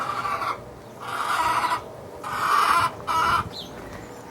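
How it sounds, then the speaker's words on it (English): Chickens cluck in several loud bursts with short pauses between, heard nearby on a rain- and solar-powered homestead that also keeps goats. "And chickens,"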